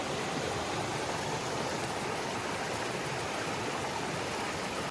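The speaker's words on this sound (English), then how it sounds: "It's really nice water crossing here." Continuous broadband babble of a flowing stream at a hiking trail crossing in Virginia, steady and fairly close, with water rushing over rocks and no voices.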